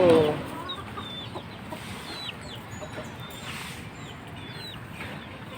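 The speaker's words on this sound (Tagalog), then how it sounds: "Madaming manok." Chickens cluck softly on a hot farm where corn is grown, with scattered chirps and calls over a low, steady background hum, fairly faint and distant.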